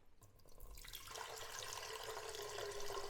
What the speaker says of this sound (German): ich gieße nun Wasser in den Reiskocher